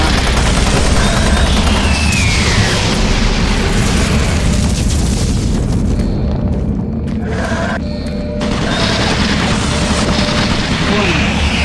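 Automated turret guns in Doom 3: BFG Edition fire continuously in a loud, dense barrage of booms and bursts, with a robotic warning voice mixed in throughout.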